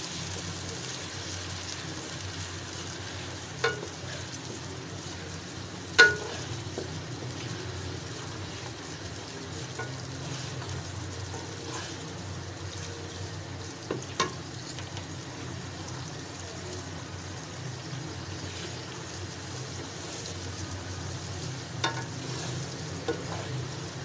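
Gobi gosht stir-fries in a pan, giving a constant low hiss with only a few scattered stirring clicks, fairly quiet and even throughout, with no voices.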